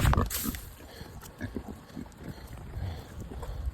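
Pigs on a homestead grunting and snuffling nearby, a series of low, uneven grunts over some rustling and background noise.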